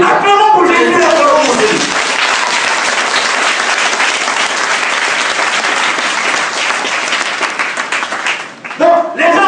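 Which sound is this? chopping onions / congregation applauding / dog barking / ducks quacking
congregation applauding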